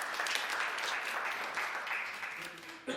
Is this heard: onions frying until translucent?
no